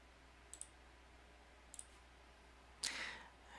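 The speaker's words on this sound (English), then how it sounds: "Click on the link." Computer mouse clicking on a link, a few sharp faint clicks spaced apart, then a brief louder rustle near the end in a quiet room.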